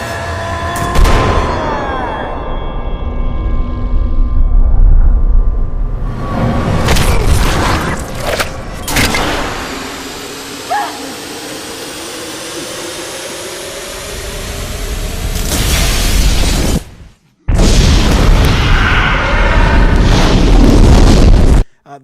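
A big 3D movie explosion as a mine collapses in My Bloody Valentine 3D, with loud rolling booms and rumbling debris surging and fading over about twenty seconds, then a sudden cut and a final roaring burst.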